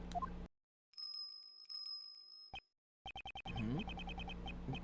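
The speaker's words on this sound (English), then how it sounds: "It has a bell on its collar. Was this the sound that we heard earlier?" Small bell on a dog's collar in the video game Ace Attorney Investigations 2, a few bright jingles and short repeated chimes alternating with silent gaps, clean game sound with no voices.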